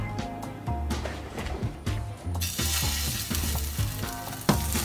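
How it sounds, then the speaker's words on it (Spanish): Egg-soaked food frying in a preheated pan gives a steady sizzling hiss that swells noticeably after the first couple of seconds, with low rhythmic thumps underneath. "ya no tenemos más que freírla en la sartén"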